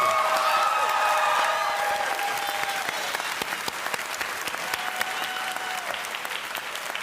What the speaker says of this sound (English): give our faculty a round of applause for their contribution